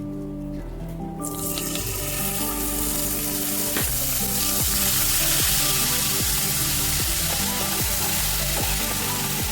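Ginger-garlic paste drops into melted sugar and oil and fries with a loud, steady sizzle, broken by repeated scraping stirs, with no talking.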